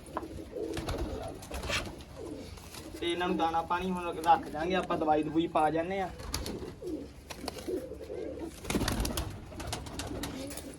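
Female pigeons kept out in the sun coo in a steady, rolling burst of repeated throaty calls, loud and close, with someone talking before and after.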